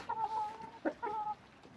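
Chickens cluck in a few short bursts, close by, with a brief louder squawk in the middle and no talking.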